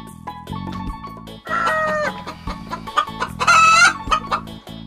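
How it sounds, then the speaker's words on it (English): A hen clucks loudly and close by in a quick series of short clucks and squawks, rising into a brief excited cackle. "Hen."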